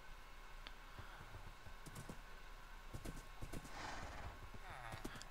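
Horse hooves clip-clop in a crafting video game, a run of light, fairly close steps over a steady background bed, with a faint whinny possible partway through.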